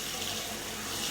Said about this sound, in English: put some water on top,